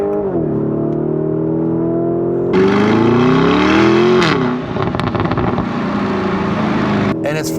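A 700 hp Lamborghini Urus Performante SUV accelerates hard through a corner on a road in Mexico, its engine note climbing steadily and then surging louder and rougher from close inside the cabin, with a brief easing before it pulls again.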